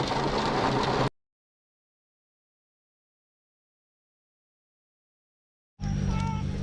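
Heavy rain falls during a stormy fishing trip as a dense, loud hiss. It comes in two bursts, about a second at the start and again near the end, separated by complete silence.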